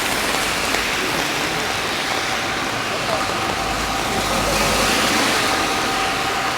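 Heavy rain pelts an umbrella in Halifax, a dense, continuous hiss and patter close overhead, steady and loud throughout.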